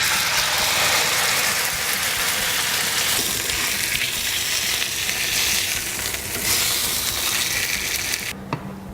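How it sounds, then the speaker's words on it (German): Roast beef searing in a hot pan, a loud continuous sizzle and hiss, with occasional clatter as the meat is turned, fading out near the end. "Jetzt tue ich den Braten hier von allen Seiten heute etwa 3-4 Minuten einfach scharf"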